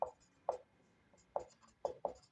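Chalk or marker strokes on a classroom board during a Hindi-medium physics lecture on vectors, heard as five short, sharp scratches spaced irregularly, fairly close and with no talking.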